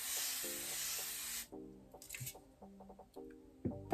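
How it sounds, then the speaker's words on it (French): A burst of water misting onto a face hisses loudly for about a second and a half in a quiet bedroom, then gives way to faint rustles and soft handling noises. "je vais brumiser mon visage d'eau"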